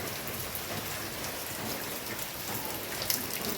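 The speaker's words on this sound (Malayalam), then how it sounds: "അപ്പോൾ നല്ല മഴയാണ്" Heavy morning rain pours down in a dense, even hiss of drops hitting surfaces, continuous and close throughout without a break.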